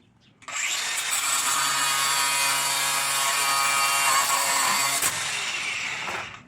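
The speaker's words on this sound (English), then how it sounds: "when cutting rebar, these blades are really great." Power saw fitted with a special blade cutting through metal rebar, a loud steady grinding whine that starts abruptly, holds for about five seconds and then cuts off.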